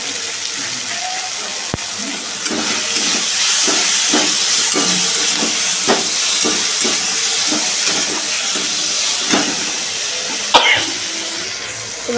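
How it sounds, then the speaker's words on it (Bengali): Soy sauce hits a hot pan and sizzles in a steady, loud hiss that lasts throughout, with scattered clicks and scrapes of cooking and a sharp knock near the end. "একটুখানি সয়াবিন সস দিয়ে দেবো"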